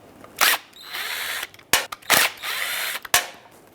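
A power drill spins out 8mm screws from the lock cylinder of a 2011-2018 Ram 2500 tailgate in short, close whirring bursts separated by clicks and pauses.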